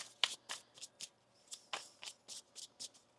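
Tarot cards being shuffled by hand, a quick run of soft riffling snaps and slaps, close and fairly quiet, with no talk.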